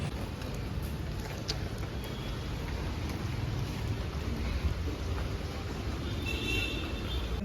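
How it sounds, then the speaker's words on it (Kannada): Heavy rain pours steadily in Bengaluru, a dense, loud roar of drops with a deep rumbling undertone throughout and no voices. "ಬೆಂಗಳೂರಿನಲ್ಲಿ ಮಳೆ ಧಾರಾಕಾರವಾದ ಮಳೆ"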